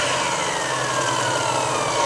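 A WESCO miter saw motor runs at full speed, a steady, loud whirring drone with a high whine, holding constant with no voices.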